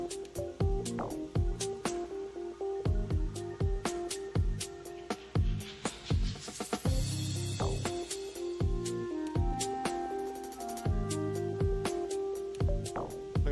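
Upbeat background music from a Lemmings video game level bounces along with sharp, punchy percussive hits over a repeating tonal line, heard at a moderate level without speech.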